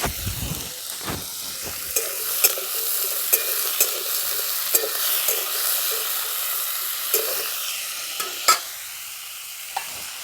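Pumpkin pieces fry in hot oil with a continuous close sizzle, punctuated by regular scrapes and taps of a spatula stirring the pan; no talking.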